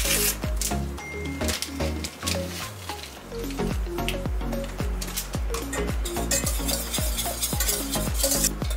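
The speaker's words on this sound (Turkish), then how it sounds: "Göz göz olduktan sonra tencereyi ocaktan aldık. Karıştırmaya devam ediyorum." Custard for a strawberry magnolia pudding being stirred in a pot just off the stove, a steady rhythm of close, wet scraping and sloshing strokes with no talk.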